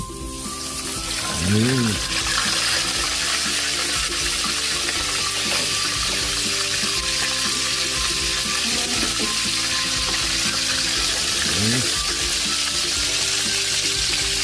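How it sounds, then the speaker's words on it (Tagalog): Pompano fish frying in hot oil, a steady loud sizzle that runs throughout with occasional stirring and clatter in the pan. "Check natin yung ating pritong isdang pampano"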